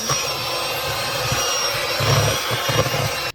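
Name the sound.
mixing butter for sweet potato pie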